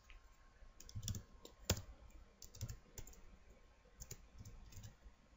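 Keys clatter on a computer keyboard as an address is typed into a browser after a Belkin router setup, with a steady run of faint, quick clicks and one sharper tap, recorded close and quiet with no talk.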